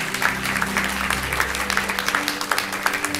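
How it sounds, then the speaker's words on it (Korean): Congregation applauding during a Sunday worship service at a Korean church, steady dense clapping filling the room with a low hum of voices beneath, sustained for a few seconds. "우리 따뜻하게 한번 박수로 한번 환영해 주시고"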